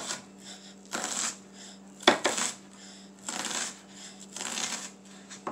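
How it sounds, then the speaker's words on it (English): A knife dices half of a small onion for a tuna melt. Bursts of crisp chopping come in irregular clusters, with a sharp clack of the blade against the board partway through, close and fairly quiet over a low hum. "And half of a small onion. I'm gonna dice this bad boy right up."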